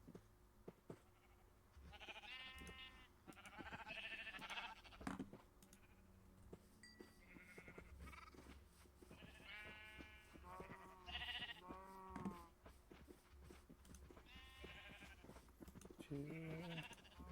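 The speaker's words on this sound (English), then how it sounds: "I need to feed some of these sheep," Sheep in a farming video game bleat repeatedly, a series of wavering calls that overlap and answer one another at a soft, steady level with no talk.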